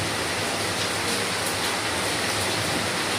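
Heavy rain pours down steadily as a dense, unbroken hiss that stays loud and even throughout, with no voices.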